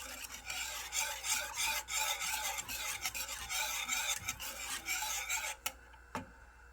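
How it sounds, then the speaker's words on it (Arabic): Béchamel sauce is stirred in a pot for healthy macaroni Negresco, making a close, rhythmic scraping and rubbing that repeats steadily and then breaks into a few separate strokes at the end. "هنفضل نقلب كده في البشاميل بتاعنا لغايه ما يتكون عندنا خليط البشاميل يتماسك"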